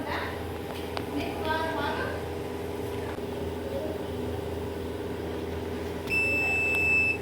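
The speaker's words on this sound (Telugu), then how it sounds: "లాంగ్ బీప్ వచ్చిన తర్వాత" A single long electronic beep from a Havells Gracia alkaline water purifier sounds near the end, clear and steady over a background hum, after some faint clatter earlier.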